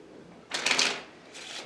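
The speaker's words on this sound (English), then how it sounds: "I'm now going to give the cards a quick mix" A deck of playing cards being shuffled during a magic routine, a brisk riffling burst of about half a second followed by a shorter second riffle, close and fairly quiet with no talk over it.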